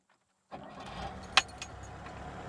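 A VAZ 2106 car starts after a brief silence: a sudden onset of engine cranking and rough running, with a sharp metallic click partway through and continuous mechanical noise afterward.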